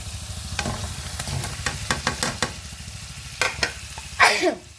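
Vegetables for a spicy taro and prawn curry stirred and fried with spices in a pan, a close, continuous sizzle broken by repeated scraping stir strokes and a louder burst at the end.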